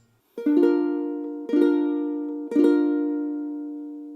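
A single ukulele chord is strummed three times at an even pace, each ringing out cleanly and decaying before the next.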